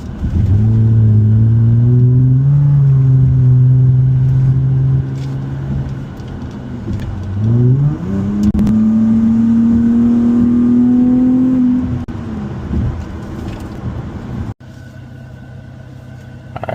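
A VHR car engine idles loudly nearby after its vapor canister purge valve is replaced, the idle note wavering and stepping up and down in pitch, then dropping lower near the end.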